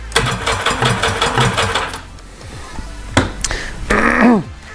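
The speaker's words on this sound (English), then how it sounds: "It cranks over and compression appears to be good." A WaveRaider big bore 1100/1200 jet ski engine cranks over on the starter with no fuel, a fast, even mechanical chugging for about two seconds, followed by short whirring bursts as it spins down.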